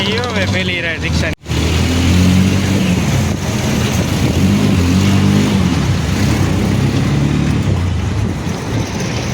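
An auto rickshaw engine drones steadily and fairly loud throughout a ride, with a short stretch of talk near the start and a brief dropout early on.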